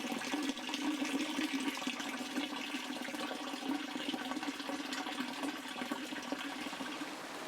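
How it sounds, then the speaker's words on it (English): A heavy thundery summer shower pours down on a garden in a dense, continuous rush, like water splashing and drumming close by without letup. "a very welcoming heavy thundery shower, enough to fill up our water butts"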